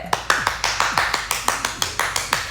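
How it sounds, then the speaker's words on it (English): A single person's clapping, about a dozen sharp evenly spaced claps, close and fairly loud with no speech. "A round of applause, please, for me."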